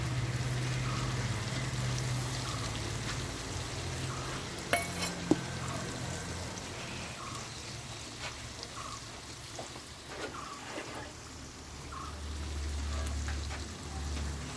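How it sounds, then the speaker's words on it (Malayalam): Tomatoes tipped into a hot frying pan and stirred, giving a steady low sizzle with scraping stir strokes and a few light clinks of utensil on metal, no talking. "ഇനി നമ്മളതിലേക്ക് തക്കാളി ഇട്ട് കൊടുക്കുകയാണ്"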